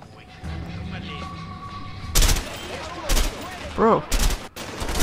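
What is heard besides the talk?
gunfire hitting the player in a video game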